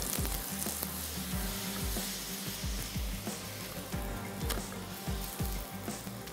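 A matar paratha frying in ghee on a hot pan, a steady sizzle with crackling pops and low ticking sounds throughout, close and continuous, with no one talking.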